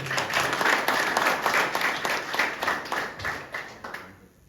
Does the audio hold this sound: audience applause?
yes